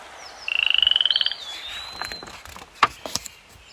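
A frog gives a fast, rattling croak of about a dozen pulses, followed by scattered light taps and clicks in a quiet space.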